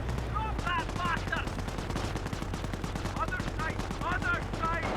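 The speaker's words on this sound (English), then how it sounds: "those Sten SMGs are going to make short work of these Grenadiers" Sten submachine guns fire in a Company of Heroes battle against Panzer Grenadiers, rapid bursts crackling over a dense, continuous din of combat and engine rumble, with repeated automatic volleys throughout.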